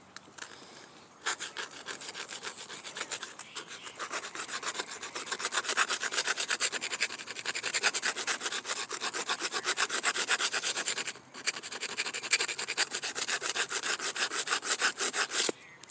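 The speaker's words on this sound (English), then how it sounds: "he did in fact ask if I could remove the edge from this so this can be used as a training knife" A file rasps rapidly back and forth along a knife blade to take off its edge, making a dense, continuous scraping with a brief pause partway through.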